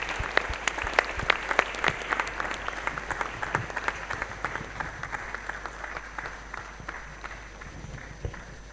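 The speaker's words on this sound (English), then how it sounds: "I would like the whole audience to give a round of applause for our brilliant panelists" Steady, dense audience applause for panelists at the Nigeria-EU Innovation Days event, many hands clapping continuously at an even level throughout with no talk.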